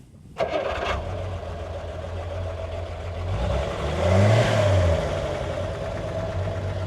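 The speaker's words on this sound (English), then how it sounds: "So yeah, that is the sound of that inline 6, 75 horsepower." An IFA P3 inline-six, 75-horsepower engine cranks and catches, settling into a steady idle, then revs briefly before returning to idle, close and fairly loud.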